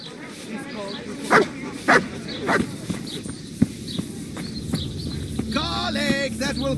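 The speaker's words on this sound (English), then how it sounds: "There's the good doggy." A dog in the video game Kingdom Come: Deliverance gives several short, close barks and yips, then whimpers, amid footsteps, with someone talking over it.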